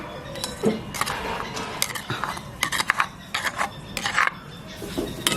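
Dry-roasting grated coconut with five or six cardamom pods in a pan makes steady scraping and rubbing as a utensil stirs, with light metallic taps and clinks close by, and no talk.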